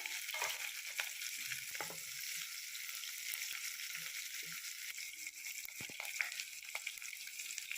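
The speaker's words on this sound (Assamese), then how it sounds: "পাঁচফোৰণখিনি আকৌ ৰঙা হোৱাৰ পিছত পিঁয়াজ দিলোঁ পিঁয়াজখিনি ফ্ৰাই কৰি ল'ব লাগিব" Onions fry with whole five-spice seeds in hot oil in a pan, giving a steady, close hiss and sizzle with faint crackles and occasional stirring rattles, no voices.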